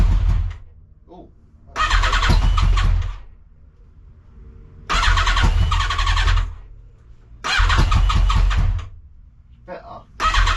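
Yamaha XJR 1300 motorcycle with a throttle position sensor fault, cranked on choke in repeated loud starter bursts that briefly catch, with quiet pauses and someone talking between attempts.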